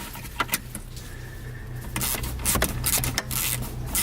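Inside a Ford Sport Trac, a ratchet with a 5/16 deep socket turns out armrest bolts, making sharp close clicks and scattered metallic taps over a low steady hum.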